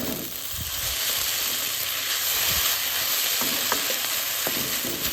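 Instant fried noodles (mie goreng) being stirred in a pan, giving a steady close sizzle and hiss with soft scraping from the stirring, no talking.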